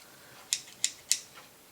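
Scissors snip paper for a scrapbook page layout, three sharp crisp cuts evenly spaced about a third of a second apart, close and clean against a quiet room, followed by a fainter fourth snip.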